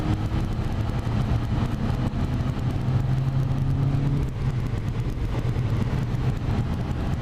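A 300-horsepower Peugeot 308 GTi accelerates, its engine giving a steady loud drone with rising tonal hum, heard from inside the car throughout.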